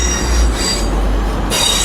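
A Class 185 train passes through Doncaster station with loud, sustained squealing of wheels on rail, a steady metallic screech close by that brightens near the end.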